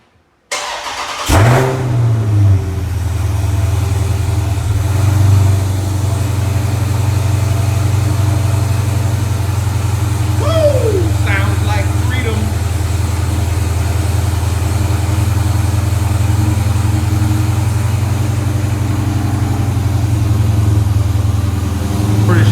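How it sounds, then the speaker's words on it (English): A 2018 Dodge Charger Scat Pack with cat-deleted exhaust and a ported throttle body cold-starts with one sharp, loud bark, then settles into a steady, deep, rumbling idle that carries on alone for about twenty seconds. "the first bark when this thing cranks up on a cold start, it's pretty vicious"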